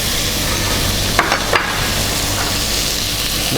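Garlic, celery and carrots sautéing in a pan as a beef stew base, a steady broadband sizzle running throughout with a couple of brief stirring clatters near the middle.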